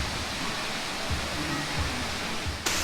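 Water splashes and rushes steadily from the empty splash area of a resort pool themed on the French Quarter. The sound is a continuous, moderate hiss, with faint voices underneath and a brief sharp noise near the end.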